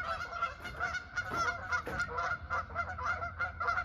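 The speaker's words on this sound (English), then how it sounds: "Excuse all the geese." Several geese honk repeatedly and overlapping, loud and close, in an irregular, agitated chorus.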